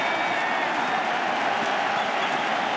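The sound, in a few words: baseball stadium crowd cheering at World Series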